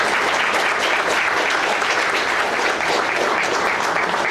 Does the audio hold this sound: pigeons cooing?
no